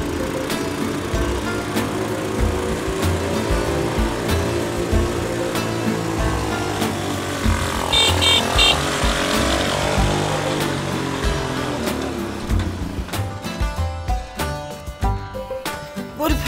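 A motor engine hums steadily and loudly throughout, with music-like tones and some clatter toward the end, as of a ride on a motorbike.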